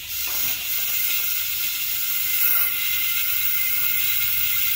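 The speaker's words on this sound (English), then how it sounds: "I'm just gonna blow all the fluid out of these lines so we can fill it up with clean fluid" Compressed air blowing old fluid out of power steering hoses, a loud, continuous hissing rush with slight gurgling and rattling, close up and with no talking.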